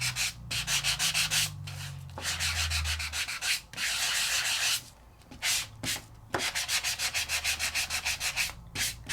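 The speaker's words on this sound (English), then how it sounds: "my sandpaper, my Sizzix sanding block is going to take off that paper and expose the design." A Sizzix sanding block scrapes paper off a raised embossed design, rubbing in quick repeated strokes with short pauses between bursts, close and clear with no talking.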